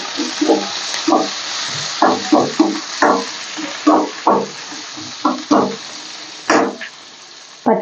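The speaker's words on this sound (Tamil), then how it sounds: "பார்த்தீங்கன்னா நல்லா வதக்கிக்கலாம்" Onion, curry leaves and chilli with a little fenugreek being sautéed for chicken curry, with repeated scraping stirs of a spoon against the pan over a soft sizzle, close and rhythmic, without speech.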